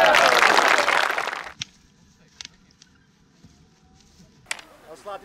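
An audience applauds Nick and Anne at a medieval spectacle event, a short burst of clapping that quickly fades, followed by a few isolated knocks and sharp sounds.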